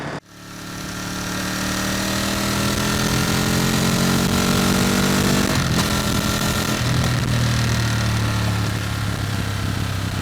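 A 2023 Ducati Monster+ V-twin motorcycle being ridden, its engine starting and settling into a loud, continuous throbbing rumble with shifting revs, heard close up with no talking.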